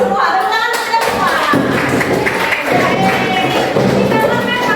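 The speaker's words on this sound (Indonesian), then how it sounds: "Tepuk tangan untuk kita semua." A small indoor audience claps in a scattered way, mixed with talking voices and a few dull thuds and taps close by.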